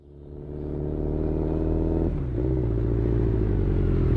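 A motorcycle engine revs in the Live-A-Live video game, rising from quiet into a loud, steady throaty drone with a brief pitch dip midway before holding strong, with no voices.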